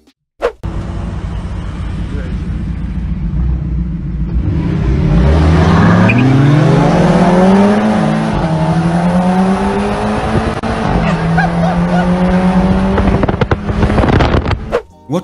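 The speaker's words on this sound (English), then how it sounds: "this 700 horsepower M5 towing a boat and still winning the race." A 700-horsepower BMW M5 towing a boat in a race roars loudly and steadily, its engine pitch climbing through several gear changes before the sound cuts off abruptly at the end.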